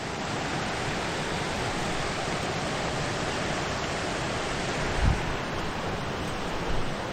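Rock Creek in Montana flows past in a continuous, fairly loud broadband rush, steady and unbroken with no voices, only a couple of faint thumps.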